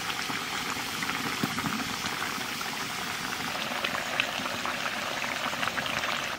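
Tuturi fish curry boiling in a pot, a steady close bubbling and simmering that runs throughout with no talk.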